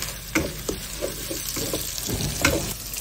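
Pork belly, minced scallion, ginger, garlic and dry pot sauce stir-fry in a wok, giving a steady oily sizzle broken by several sharp scraping clatters of the spatula against the pan.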